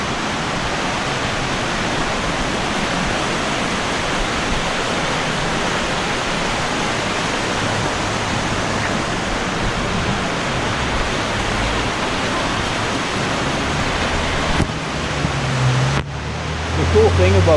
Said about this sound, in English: right along the little river here